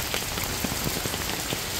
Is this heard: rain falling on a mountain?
yes